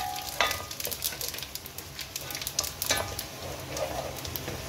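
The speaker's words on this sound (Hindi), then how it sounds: "इसे थोड़ा सा फ्राई कर लेंगे।" Cumin seeds, black cardamom, star anise and dried red chillies frying in hot oil for zeera rice, giving a steady crackling sizzle with sharp pops throughout, close and fairly loud, with no voices.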